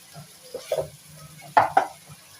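Gobhi chicken, cauliflower with chicken, sautéing in hot oil: a soft steady sizzle broken by a few scraping stirs of a spoon through the pan, two of them sharper and louder near the end, with no voices.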